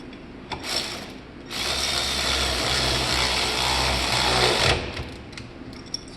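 A power tool drives and tightens bolts on a vehicle ball mount, one steady whirring run of a few seconds, close and fairly loud, with brief tool handling noises before and after.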